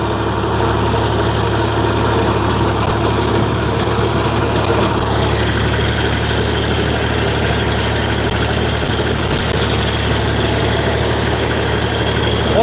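A farm tractor engine idles steadily and loudly close by, a constant low diesel drone with a faint brief change midway and no talk.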